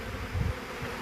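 Bees swarm around a cut-out section of wall, a close, continuous buzzing drone that swells briefly in the middle.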